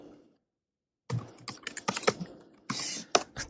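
Fingers clatter on a computer keyboard in rapid, uneven bursts of close clicks after a brief silence, with no talking over them.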